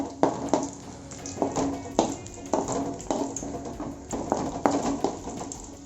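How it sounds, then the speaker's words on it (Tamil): Food fries in a pan on a low stove flame until golden, with a soft sizzle beneath regular, close taps and scrapes of a utensil against the pan. "இது ஓரளவுக்கு பொன்னிறமாக வர வரைக்கும் நம்ம வறுத்து எடுத்துக்கலாம்"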